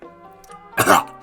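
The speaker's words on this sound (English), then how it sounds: "As he starts coughing out blood" A single harsh, wet cough bursts out over a faint background tone, brief and close.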